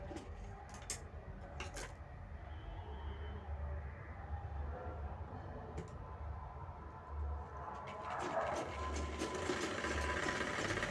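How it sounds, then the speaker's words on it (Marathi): A sewing machine runs continuously and quietly, stitching seams into a cloth vegetable storage bag, with a low steady motor hum and a few faint clicks over roughly eleven seconds. "इथे मार्जिन सोडून आपल्याला शिवून घ्यायचं आहे ते पण थोडं साईडला तिथे आपण परत शिलाई घेणार आहोत"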